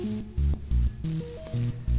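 Advanced bitcrusher effect patched in VCV Rack with added noise, giving a gritty, lo-fi synth sequence of short stepped notes with a buzzy, crunchy edge, played alone.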